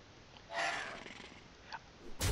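A creature in Hearthstone gives a brief, soft rumbling purr, followed by a couple of faint clicks and a quick swish.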